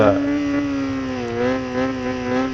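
A 2004 Kawasaki ZX-6R 600 cc motorcycle engine holds a steady, loud high-revving drone at speed, its pitch wavering slightly up and down throughout.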